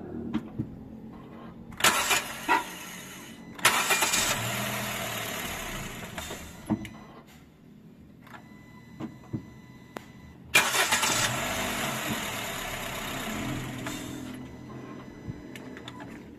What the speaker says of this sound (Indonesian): dan mobil langsung bisa di starter